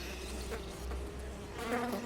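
Honeybees buzz at the bottom of a hive among debris and fallen pollen, a soft, continuous hum with a few louder passes of individual bees close by.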